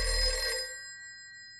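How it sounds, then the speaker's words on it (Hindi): An old-style telephone bell rings once in a home, a loud ringing burst that decays over about a second into a faint lingering tone. "बज गई घंटी।"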